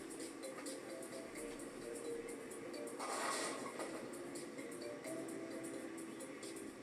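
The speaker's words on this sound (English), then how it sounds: "we have a second train approaching" A second train rumbles toward a lowered level-crossing gate, a steady mid-distance rolling din with clattering wheel noise and a brief louder swell partway through.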